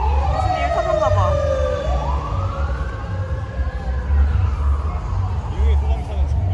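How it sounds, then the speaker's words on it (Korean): American fire truck siren wailing along a San Diego street, rising and falling loudly over steady low traffic rumble and city noise. "미국의 소방차는 지금 요란한 것 같습니다."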